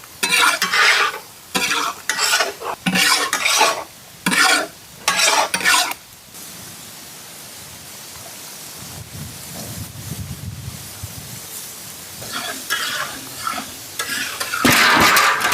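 A large garfish with masala is stirred and fried in a pan, with loud repeated scraping strokes in bursts, then a quieter sizzling stretch before more scraping, close and without talk.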